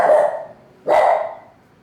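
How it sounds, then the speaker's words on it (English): A dog barks twice close by, two loud separate barks in a quiet room with no talking. "Sorry, my dog's barking."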